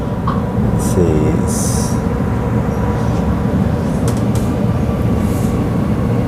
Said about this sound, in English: we have the other Australind train just here